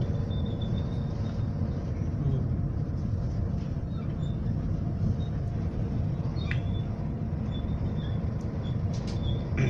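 Interior of a moving passenger train, a steady low rumble and rolling drone with faint high rattles and squeaks throughout, continuous and moderately loud with no talking.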